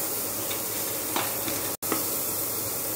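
Tomatoes sizzle steadily in a pan for daliya pulao. Several faint scrapes of stirring sit over a close, continuous frying hiss.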